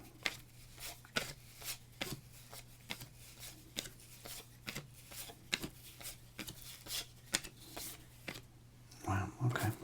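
1989 Topps baseball cards are handled and counted, giving soft, regular flicks and slaps of card stock close up, with a voice briefly heard near the end.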